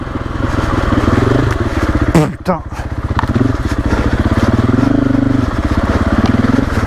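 A KTM 500 EXC-F 2024 single-cylinder enduro motorcycle ridden off-road, its engine thumping loud and close with uneven throttle, a brief clattering jolt midway, and the rider swearing once.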